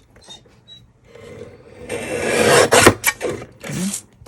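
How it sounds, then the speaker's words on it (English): A paper guillotine blade slices down through card, a loud scraping rasp building over about two seconds and ending in a few sharp cuts, close and alone. "I'm going to use my guillotine because I think it'll be a cleaner cut"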